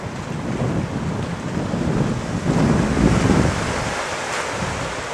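Ocean surf at the back of Warmwater Lagoon at a very low tide, heard as a steady broadband wash of waves that swells in the middle, with wind buffeting the microphone throughout.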